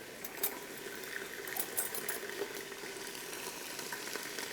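Garlic-ginger paste and spices sizzling and bubbling in hot oil in a desi cooking pan, a steady crackling hiss that runs unbroken and close without talk.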